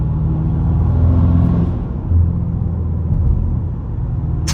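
A BMW G99 M5 fitted with downpipes cruises along, a steady low exhaust rumble with a raspy edge that swells and eases slightly, close by with no talk.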